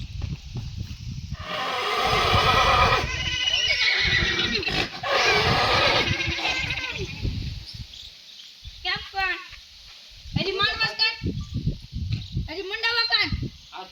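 A horse at a stable neighs in a couple of loud, rising whinnies near the end, after a stretch of rough, noisy handling sounds; people talk intermittently nearby.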